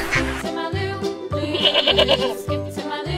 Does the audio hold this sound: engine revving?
no